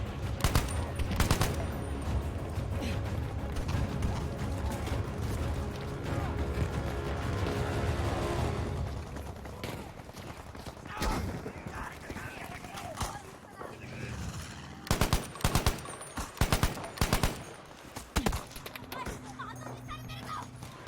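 Gunfire in a battle game, with dense rattling shots in the opening seconds, then scattered sharp cracks and short bursts later on, some near and loud, amid hoofbeat-like clatter, with a voice talking over parts of it.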